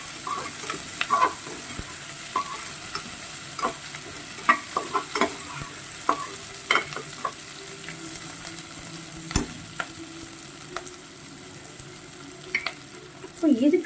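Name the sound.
onions frying and being stirred for aloo biryani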